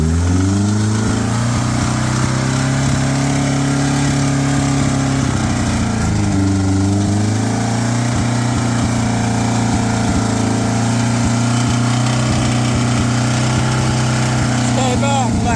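Suzuki car engine being revved, a loud close engine drone rising in pitch, dipping, then climbing and holding at high RPM, with someone talking over it.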